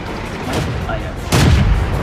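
A deep booming tank cannon shot from World of Tanks, one loud blast landing late over steady engine rumble, with a voice talking beforehand.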